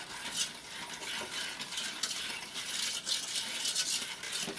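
A spoon scrapes and swirls around a pot of sugar mixture on the stove for a 1976 red, white and blue salad, a continuous near rustle with small clinks and no talk.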